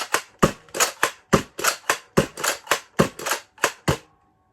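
Rapid series of about fifteen snappy plastic clacks from a Nerf N Series Agility blaster being primed and fired, a quick steady rhythm of paired priming and firing sounds up close.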